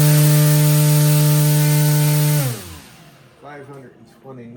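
A small RC motor spins a 9-inch two-blade folding propeller at full throttle, a loud close steady whine with a strong tonal buzz that winds down sharply after about two and a half seconds, followed by faint talking.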